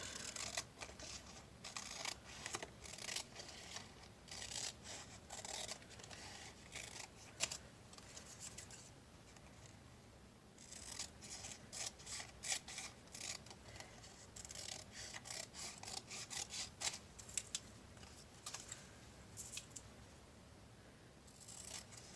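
Scissors trim strips of craft paper for woven bookmarks, giving many quick close snips in uneven bursts with brief pauses, quiet and crisp, and no voices.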